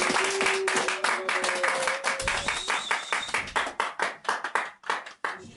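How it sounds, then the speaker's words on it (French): Guests at a customary wedding clap steadily in a dense, rhythmic burst of many hands that thins toward the end, with faint voices mixed in. "Merci, applaudissez s'il vous plaît."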